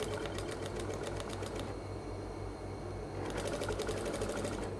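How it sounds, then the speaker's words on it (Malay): A sewing machine stitches the seam of a kaftan in two rapid, even bursts with a short pause between them. The whirring is close and clear, and there is no talk. "So kita jahit lah"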